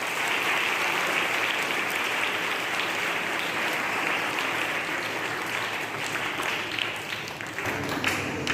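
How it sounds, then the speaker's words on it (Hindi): A crowd at a National Sports Day celebration applauds for Olympic gold medallist Neeraj Chopra, a steady, dense wash of clapping that holds at an even loudness for the whole stretch. "तो सर्वप्रथम हम नीरज चोपड़ा जी के लिए जोरदार तालियां बजाएं।"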